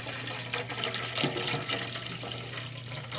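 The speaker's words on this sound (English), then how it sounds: "I'm going to fill up both of these containers" Tap water from Denver runs steadily into containers holding a little baking soda, a continuous close splashing rush with a low hum underneath and no talking.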